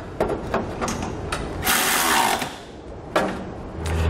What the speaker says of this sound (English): we'll come back with that 16mm socket and we'll tighten up those factory nuts